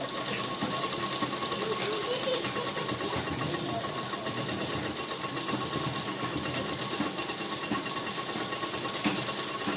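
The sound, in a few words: sewing machine stitching pant fabric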